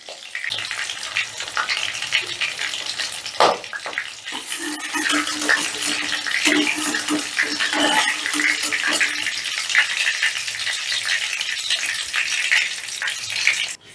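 Fish frying in oil for a restaurant-style chilli fish dish gives a steady, continuous sizzle with crackling and occasional spatters, loud and close throughout with no talking.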